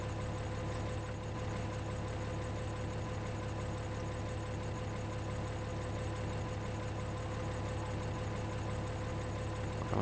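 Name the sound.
combine harvester engine in Farming Simulator 13 video game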